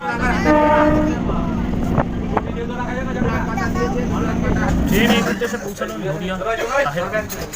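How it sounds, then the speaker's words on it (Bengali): A local train pulls into Batkulla station in Nadia, its steady low rumble and rattling carriages loud and close, with a brief horn-like tone and people talking nearby; the rumble eases and shifts toward the end as it slows. "ট্রেন এই মুহূর্তে পৌঁছালো নদিয়ার বাতকুল্লা"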